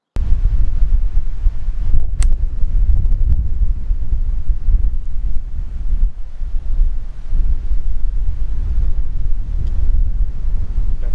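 Strong wind buffets the microphone out on a golf course, a loud, constant low roar with little else audible over it.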